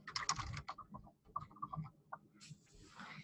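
Light, irregular taps on a computer keyboard as a project name is typed, a short, faint run of clicks up close.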